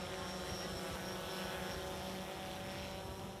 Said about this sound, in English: while Robert overflies it with a drone